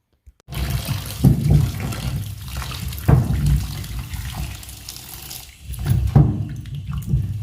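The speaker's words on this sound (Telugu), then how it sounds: "ఇప్పుడు ఈ టమాటాలని శుభ్రంగా కడిగి తడి లేకుండా ఆరబెట్టుకుందాము." Tomatoes being washed in water at a kitchen sink, with steady running and splashing water and a few louder sloshes as the fruit is rinsed, close and without talk.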